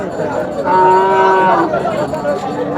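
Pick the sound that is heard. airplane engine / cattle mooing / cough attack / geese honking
cattle mooing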